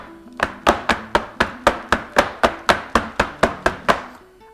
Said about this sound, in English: I'm going to give this a couple of really big taps to sort of set all the ingredients that are on top